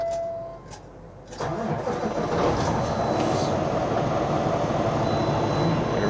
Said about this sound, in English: Let's go ahead and turn this bad boy on, open the door so hopefully you can hear the engine.